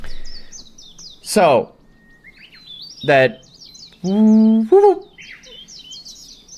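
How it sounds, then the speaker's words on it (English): A Japanese warbler sings in a quiet outdoor setting, with a few bright, whistled phrases and chirps standing out at moderate distance while other small birds twitter in the background and a voice speaks briefly. "That is a Japanese warbler."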